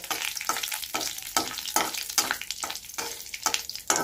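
Dried red chilli and black cumin tempering frying in hot oil, a steady bright sizzle with rhythmic swells as the spices are stirred, close and moderately loud, with no voices.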